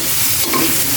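Soy sauce hits browning food in a hot pan, giving a loud, close, continuous sizzle with stirring scrapes throughout the short burst.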